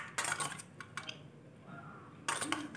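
Burma atho vegetable noodles being tossed with garlic and lemon in a dish, giving a few short bursts of utensil clinks and scraping separated by quieter pauses.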